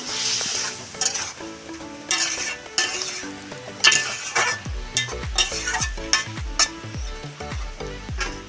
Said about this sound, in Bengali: আর দিয়ে দেবো স্বাদ মতন চিনি এটাকে ভালো করে নেড়ে